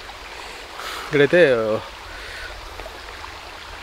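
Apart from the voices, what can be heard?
water flowing in stream near Tada waterfalls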